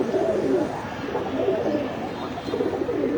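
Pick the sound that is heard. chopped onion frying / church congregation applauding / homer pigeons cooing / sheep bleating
homer pigeons cooing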